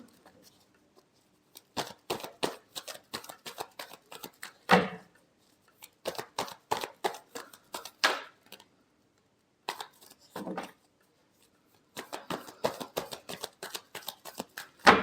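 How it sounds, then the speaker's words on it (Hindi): Tarot cards are shuffled by hand in quick bursts of crisp riffling flicks, several rounds separated by short pauses, close and clear, with a few sharper snaps between bursts. "last shuffle"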